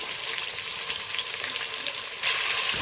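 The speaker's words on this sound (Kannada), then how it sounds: "ಹಾಗೆ ಇದಕ್ಕೆ ಕಟ್ ಮಾಡ್ಕೊಂಡಿರುವಂಥ ಈರುಳ್ಳಿ ಸೇರಿಸ್ಕೊಳ್ಳೋಣ" Chopped onions, three or four of them, frying in oil in a pan for a chicken curry, with a steady close sizzle that swells louder toward the end as they settle into the hot oil; no voices.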